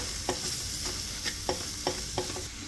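Besan mirchi being stirred in a pan with lemon juice, a soft steady sizzle broken by five evenly spaced sharp taps of a spoon against the pan, no voices.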